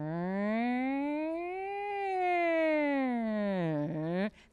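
A person imitates an air raid siren with a long wailing voice that slowly rises and falls, then dips sharply before cutting off.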